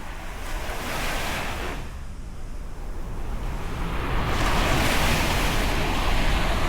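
Ocean waves wash onto the shore at a beach resort in a continuous roar, swelling louder toward the end, with wind buffeting the microphone.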